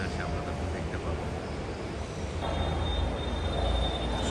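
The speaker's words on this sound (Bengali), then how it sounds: "সো গাইস, ট্রেন আসতেছে উত্তরা থেকে।" A Dhaka metro train pulls into Uttara station, a broad rumble that swells louder midway with a thin high whine, while a person talks over it on the platform.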